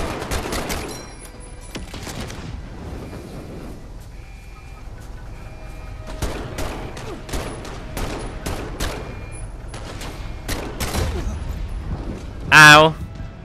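Garand rifle fire in Medal of Honor: Above and Beyond, scattered sharp shots and quick volleys at varying distances, with a loud close blast near the end.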